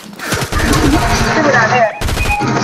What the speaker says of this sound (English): Somebody's shooting at him too.